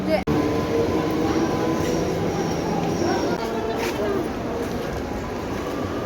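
Busy underground ambience at New Garia metro station in Kolkata, with a steady broadband rumble of trains and machinery, crowd murmur and scattered voices throughout, plus a brief dropout near the start.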